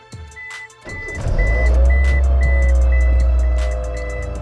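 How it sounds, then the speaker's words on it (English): A Mazda MX3 fitted with an RFID push-button start cranks briefly and catches, settling into a steady low idle close by, while a repeating electronic chime beeps throughout. "So now we're gonna start the car."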